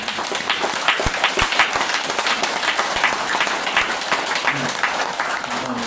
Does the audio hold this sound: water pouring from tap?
no